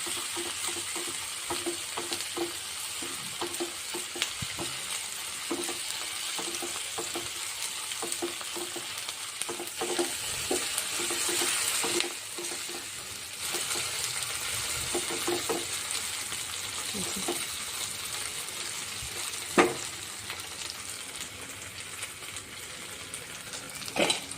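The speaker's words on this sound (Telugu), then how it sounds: "అల్లం వెల్లుల్లి పేస్ట్ ఫ్రై అయ్యిందేమో చూద్దాం" Ginger garlic paste frying in oil for an Indian drumstick and potato curry, a steady close sizzle running throughout with occasional stirring scrapes and a couple of sharper knocks near the end, no speech.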